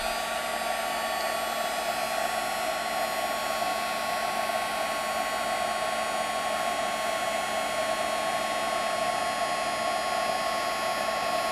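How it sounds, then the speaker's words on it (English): A heat tool blows steadily over embossing powder on a stamped image, making a constant loud whirring hiss with a faint electric whine that runs unbroken throughout, with no talking. "I'm going to heat up my embossed image."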